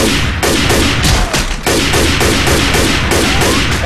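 Rapid, dense gunfire in the zombie shooter Left 4 Dead 2 during a four-versus-four Confogl match on the Dark Carnival campaign, loud close bursts of automatic fire crackling continuously for several seconds with brief gaps.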